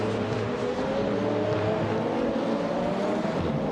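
A 2018 BMW M220 races in a video game with a continuous engine drone whose pitch rises slowly, steady and fairly loud throughout.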